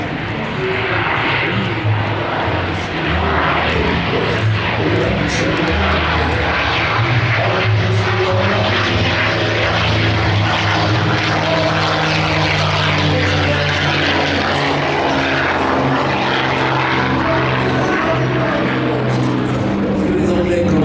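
A loud propeller aircraft engine roars steadily at close range during takeoff at the Paris Air Show 2023, a dense continuous drone with no pause throughout.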